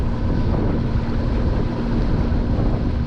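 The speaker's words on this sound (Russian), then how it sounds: "А с таким боковым ветром, который прижимает к берегу" Steady side wind roars and buffets against the microphone on a lake shore while fishing, a constant low rumble with a faint engine-like hum beneath, no voices.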